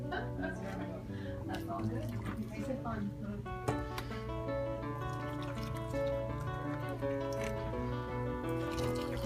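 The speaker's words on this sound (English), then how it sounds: "so put water directly onto the bag" Boiling water is poured straight onto a tea bag in a cup, a steady trickling and dripping that runs under a musical background for several seconds.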